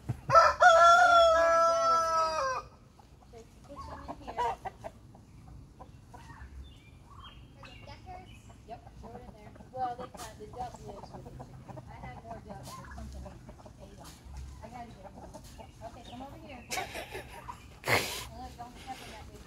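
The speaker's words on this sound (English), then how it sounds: "The rooster's following you around" A rooster crows loudly at the start, then softer clucking and scattered fowl sounds continue under quiet talk and movement while animals are fed near a cage.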